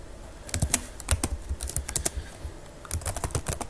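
Rapid, close keystrokes on a computer keyboard while entering Java code in the Eclipse editor, arriving in irregular bursts with short pauses between them and no voices.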